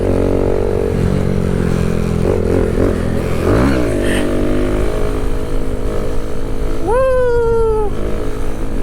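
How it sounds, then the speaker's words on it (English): A Kawasaki Z125 motorcycle pulling a third-gear wheelie, its small engine droning steadily up close, then revving hard near the end with a rising whine that falls back. "Third gear wheelies though, that opens up like a whole new world on this bike"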